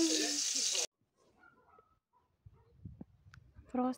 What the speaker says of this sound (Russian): Котлетки мама жарит.